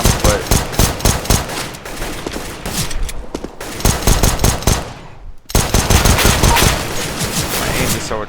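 Rapid automatic gunfire from the updated CSGO weapon sounds, dense bursts of sharp shots in quick rhythm, loud and close, broken by a short pause before firing resumes.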